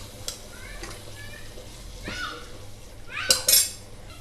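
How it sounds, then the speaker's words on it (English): A spoon clinks and scrapes in a cooking pot as coriander leaves are stirred into Indian sorrel mutton curry, giving a few soft scrapes, then sharper metallic clinks near the end, close and moderately loud. "So now mix the coriander leaves."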